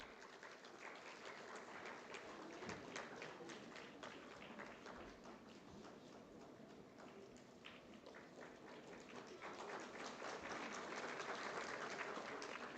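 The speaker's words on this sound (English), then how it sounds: "Gentlemen, please give a huge round of applause for Colonel Vineet Vajpayee." An audience at an Indian Army quiz event applauds a colonel, dense continuous clapping from a large crowd that holds steady throughout and swells slightly toward the end.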